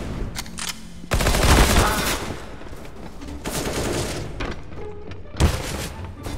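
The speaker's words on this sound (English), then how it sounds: "this dude is shooting at yellow while fully on the ladder" Rapid gunfire from a player shooting in a competitive video game, loud bursts rattling in clusters with booming impacts, game sounds dense throughout with no talk.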